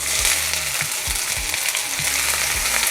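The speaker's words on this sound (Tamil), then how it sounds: "இதில் நம்ம வெங்காயத்தை போட்டுடலாம்." Onions sizzle in a little hot oil for a spicy potato fry, a steady crackling hiss punctuated by rhythmic low scraping thuds of stirring, close up with no talking.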